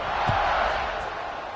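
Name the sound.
football stadium crowd cheering after touchdown drive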